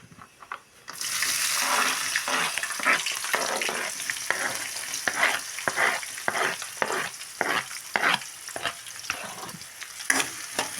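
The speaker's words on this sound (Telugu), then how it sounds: "ఇగో మిర్చి ఆనియన్ వేస్తున్నా చూడండి" Chilies and onions dropped into hot oil with cumin and mustard seeds in a home kitchen, a loud sudden sizzle followed by steady frying crackle and repeated scraping stirs.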